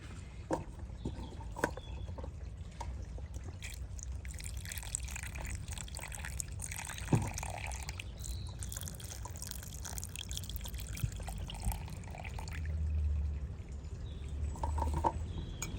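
A second cup of water is poured into a small terrarium, giving faint trickling and dripping sounds with soft splashes over quiet room noise.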